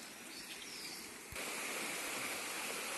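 Rushing water from a river in flood after heavy rain in Bahia, a steady broadband roar that grows louder partway through, with no voices.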